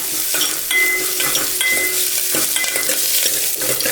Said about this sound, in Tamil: கொஞ்சம் சோப்பில் கம்மியாக வச்சு வதக்குங்க.